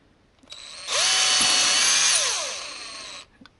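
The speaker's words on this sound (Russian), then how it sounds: "И сверлом чуть потолще делаем перпендикулярно нашему" A power drill bores a hole with a thicker bit, perpendicular to an earlier hole, in a homemade summer side-bite fishing indicator; the drill whines loudly and steadily for about two seconds after a short click, then stops.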